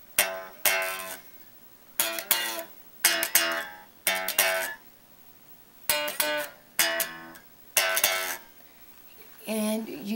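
Electric guitar slowly picking a song's intro riff in separate bursts of notes with short gaps between phrases, clear and close, with no talking.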